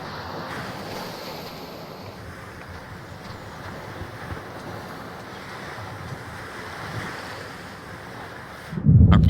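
Steady wash of ocean waves and wind around a boat sailing at sea in the video game Under a New Sun, continuous and fairly even, with a brief louder rumble at the very end.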